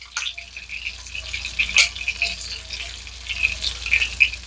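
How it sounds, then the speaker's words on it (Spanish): A spoon scrapes and clicks lightly while chopped onion and cilantro are stirred in a small tray, soft irregular taps over a quiet background hum. "Vamos a revolver aquí para que se mezcle todo,"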